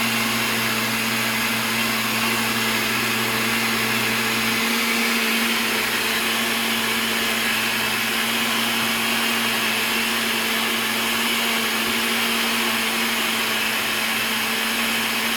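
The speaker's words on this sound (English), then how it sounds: "And then I'm going to blend it up now." A blender runs steadily and loudly, churning paper pulp mixed with water for comic book cover conservation, a continuous motor whine with a constant hum that holds without pause.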